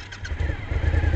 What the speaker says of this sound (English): I'm going to pull the clutch lever in and push the start button until it starts.